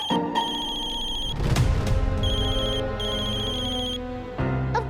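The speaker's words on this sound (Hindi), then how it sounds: "अब किसका फोन आ गया?" A phone ringtone plays as a bright, repeating electronic melody of chiming tones, loud and continuous for several seconds.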